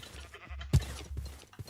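A cow in modded Minecraft survival gives one short, low moo amid quiet game background sound, with a few soft noises around it.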